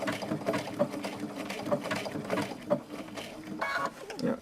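Machine stitching runs over the edge of an appliqué piece in short, uneven bursts of needle chatter, close by and moderately loud, with small pauses between runs.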